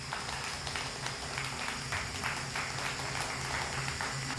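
Audience applause at a pre-launch event for a high-rise residential tower as a guest is invited on stage: steady, dense clapping from a crowd, continuous and even, with faint background voices.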